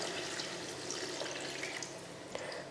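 Water poured into a pan of Tamil-style egg curry with potatoes, a steady soft splashing and trickling that runs continuously at low level, close by, with no talk over it.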